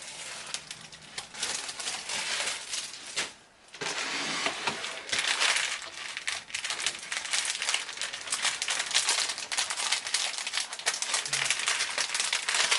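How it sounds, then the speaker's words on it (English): Plastic packaging crinkles while a diamond painting kit is unboxed, a dense run of close crackling and rustling that keeps going with only a brief pause. "Excuse the crinkling."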